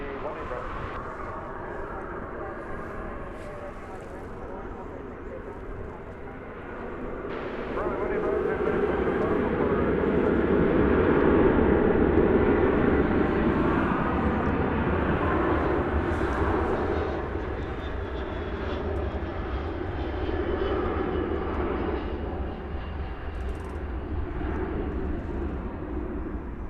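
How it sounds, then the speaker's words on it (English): An Airbus A319 arriving at Dallas Fort Worth airport swells into a loud, near jet engine roar that peaks mid-clip and slowly fades, with a voice talking over it. "That Airbus A319 arriving"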